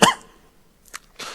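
During a church youth service sermon, a single sharp cough breaks out at the start, followed by a couple of fainter, breathy bursts after a brief quiet pause.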